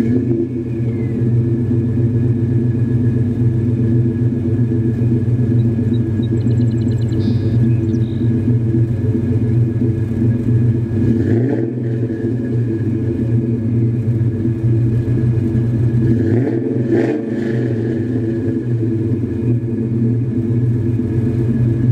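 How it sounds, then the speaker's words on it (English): A modified New Edge Ford Mustang idles with a deep, steady exhaust rumble, loud and close, holding for over twenty seconds with a couple of brief throttle swells. "now we're going to start the car up and let you hear the exhaust"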